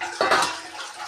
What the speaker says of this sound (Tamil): தேவையான அளவுக்கு நல்லா கொதிக்கிற அளவுக்கு தண்ணி ஊற்றிடலாம்.